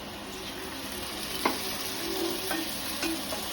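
Bangada mackerel masala fry sizzling in a pan just after a splash of water goes in, a steady close hiss with a few light clinks of a stirring utensil.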